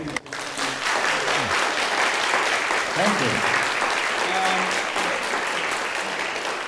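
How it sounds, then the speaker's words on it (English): A lecture audience breaks into sustained, dense applause that fills the whole stretch at steady volume, with someone briefly speaking over the start. "everyone, a round of applause"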